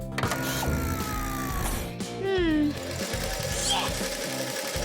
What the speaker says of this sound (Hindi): मुझे एक सिलाई मशीन की जरूरत है। इससे काम जल्दी हो जाएगा।